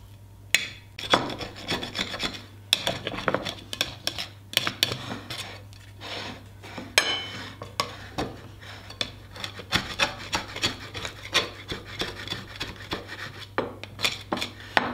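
A utensil scrapes tomato, pepper and chili sauce off plates, a close, steady rasping and rubbing with irregular clicks of tool on dish, continuing alone without talk.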